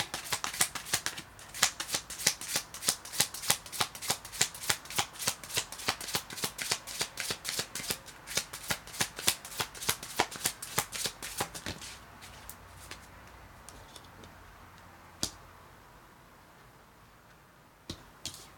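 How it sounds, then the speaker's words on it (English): Tarot cards are shuffled briskly for about twelve seconds, a dense run of crisp riffling snaps, then the deck settles and a few sharp taps follow as cards are laid down on a table, close and clear. "let me just put the cards out first, and then I'll go from there"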